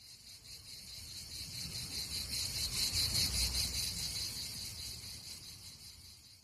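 Steady insect drone like cicadas in a hot jungle, a continuous high shimmering buzz that swells toward the middle and eases off again, with no voices over it.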